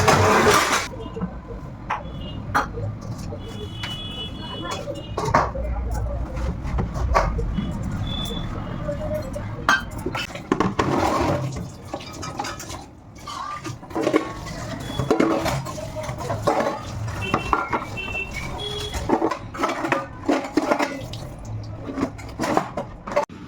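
Dishes, pots and a kadai are washed after a meal in a home kitchen: running water and repeated clattering and scraping of metal utensils continue alongside talking.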